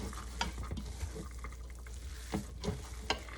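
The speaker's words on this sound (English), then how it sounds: "I am going to put my chopped up onion in with the ground beef. And mix that in a little bit." Chopped onion being worked by hand into raw ground beef for meatloaf, giving soft, wet squelching and a few sharper smacks spread across a quiet, close background, with no talk.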